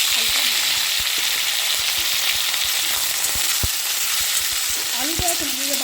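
Diced potatoes fry in a pan with a steady, close sizzle of hot oil, broken by frequent short clicks and scrapes as they are stirred. No one speaks.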